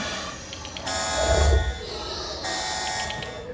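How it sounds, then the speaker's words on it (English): A buzzing electronic alarm sounds at the Raptor Encounter gates at Universal Studios, a steady loud drone with a brief swell midway and a crowd murmur underneath. "Sound the alarm."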